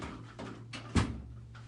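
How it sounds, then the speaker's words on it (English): A door shut indoors in a quiet room, giving one soft thud that stands out briefly against low background noise. "Let me shut this door."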